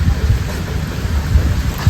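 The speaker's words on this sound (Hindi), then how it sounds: "यहाँ पे हेल स्टॉर्म, पत्थर गिर रहे हैं" Hailstones and heavy rain pound down in a rural village, a dense, continuous low rumble of impacts and downpour with no pauses.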